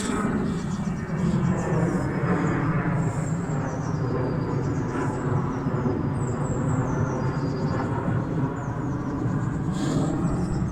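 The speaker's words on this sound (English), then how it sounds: "An easy jet flying over the top of me." An easyJet jet airliner passes overhead above a quiet gorge, its engine roar a steady, broad rumble that holds level throughout rather than rising to a distinct peak.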